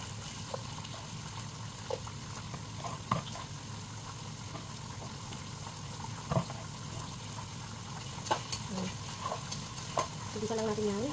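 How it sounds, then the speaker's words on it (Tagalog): Garlic and onion sauté in a pan while cooking tilapia adobo, a soft continuous sizzle with occasional scrapes and clicks of stirring, fairly quiet and close. "Igisa lang natin yan."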